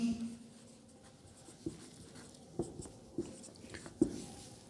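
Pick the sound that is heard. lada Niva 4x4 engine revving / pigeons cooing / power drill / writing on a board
writing on a board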